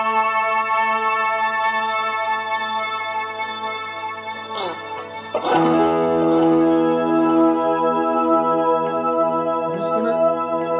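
An electric guitar with heavy distortion through an Electro-Harmonix Canyon delay pedal sustains droning single notes that ring and repeat through echoing delay, with a sharp new attack partway through.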